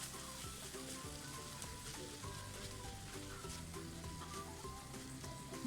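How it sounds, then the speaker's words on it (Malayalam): Onions with biryani masala powder sauté in a pan for beef dum biriyani, giving a dense, continuous sizzle with faint stirring scrapes, close and steady throughout. "ഇതെല്ലാം കൂടി നമുക്ക് നന്നായിട്ടൊന്ന് വഴറ്റി കൊടുക്കാം."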